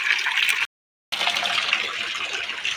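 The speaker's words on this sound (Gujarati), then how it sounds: "આ પાણી જોઈ લો આ બાજુ અડધું નીકળી જાય પાણી ને અહીંયા વહી આવે" Water flows out of a filled tank at a village Ganesh festival, making a steady, close gushing rush that is broken once by a short silent cut.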